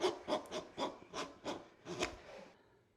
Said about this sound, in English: You're gonna take your rasp and put it in there. You're just gonna kind of clean it out a little bit.